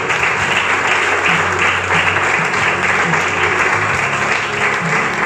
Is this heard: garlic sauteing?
no